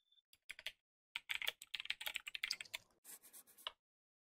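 Quiet bursts of computer keyboard typing, rapid clustered key clicks in short runs with brief pauses, close and faint, during an online game of Town of Salem.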